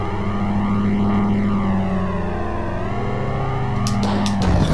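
A biplane's droning engine hums at a steady pitch that rises and falls as the craft maneuvers in the Amiga game Biplanes, ending with a few sharp bursts.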